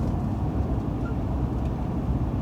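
Steady low rumble of a 2005 Lincoln Town Car with about 220,000 miles, heard from inside the cabin while driving; constant road and engine drone with no voices.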